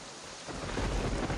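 Heavy rain pours down outdoors and a low rumble of thunder swells beneath it, dense and continuous, with no voices.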